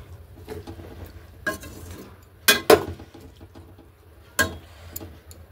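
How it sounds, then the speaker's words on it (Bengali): A spoon scrapes and clinks against a pot while stirring mixed vegetable labra made with potato, carrot, papaya, radish and onion stalks, giving a few sharp metallic knocks between quieter scraping. "দেখো নাড়িয়ে দেবো এটাকে।"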